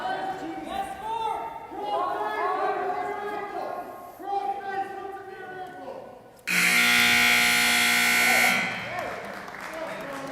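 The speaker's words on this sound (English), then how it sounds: "you will hear the buzzer in the background" Loud electronic buzzer sounds for about two seconds to end a high school wrestling period in a gym, a harsh steady blare cutting through continuous crowd noise and an announcer's voice.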